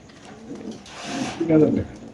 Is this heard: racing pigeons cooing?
yes